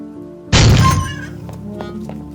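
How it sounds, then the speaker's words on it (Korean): An interrogation room door bangs open with a sudden loud, heavy thunk and crash, followed by a ringing decay and a few faint knocks as the noise settles. "취조실 문이 쾅 하는 소리와 함께 열렸고"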